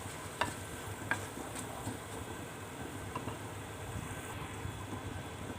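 Green chillies fry in a pan with a soft, steady sizzle and light stirring scrapes, with a few faint clicks of a utensil against the pan, heard close and without talk.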